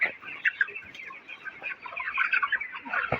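Thirty-four-day-old broiler chickens cluck and chatter continuously inside a poultry shed, a dense, fairly quiet flock murmur with overlapping short calls and no talking.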